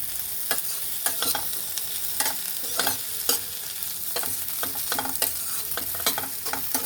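Soya Manchurian with capsicum being stir-fried in a pan: steady loud sizzling with frequent scraping and clacking strokes of a spoon against the pan, no voices.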